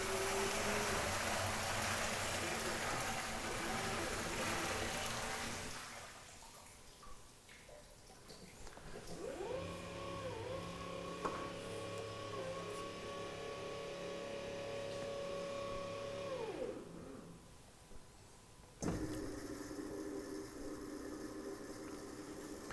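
Stainless steel telescopic electric drum tilter tipping a drum forward, a steady motor hum with a rising whine through the middle, ending in a brief thump before the hum resumes.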